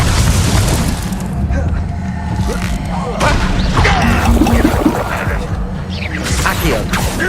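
A fire spell cast in Hogwarts Legacy, heard as a loud, dense burst of booming, crackling game effects layered over a busy combat soundscape that keeps going through the whole stretch.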